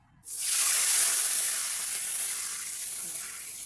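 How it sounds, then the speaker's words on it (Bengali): Water hits a hot pan after fish has been fried, bursting into a loud, bright hiss and sizzle that rises suddenly and then settles into a steady fizz. "এবার আমি এই জল দিয়ে দেবো"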